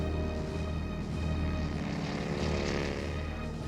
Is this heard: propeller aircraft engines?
yes